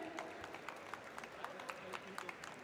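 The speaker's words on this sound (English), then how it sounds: "Please give a huge round of applause" Faint, steady applause from an audience at the stock listing ceremony of Billionbrains Garage Ventures Limited, with a continuous wash of clapping and a few sharper claps standing out throughout.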